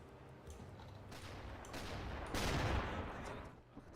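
Gunfire from a WWII naval simulation game aimed at a freighter, a dull rolling burst of shots that swells to a louder volley midway before fading.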